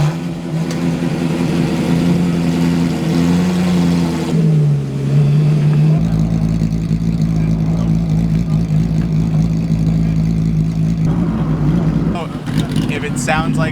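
A Ford F100 truck's engine runs close by, rumbling and surging unevenly with rising and dipping revs, while people talk over it.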